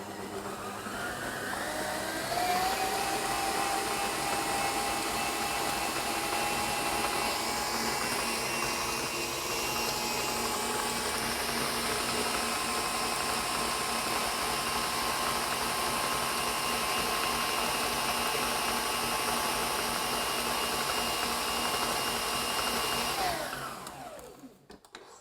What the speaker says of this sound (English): So now we're going to mix it really, really well for a little bit of time so it's all incorporated.